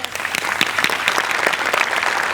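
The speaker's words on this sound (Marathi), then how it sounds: "तिच्यासाठी एकदा जोरदार टाळ्या" Applause from a studio audience at a Marathi comedy show, dense steady clapping that carries on without a break and with no talk.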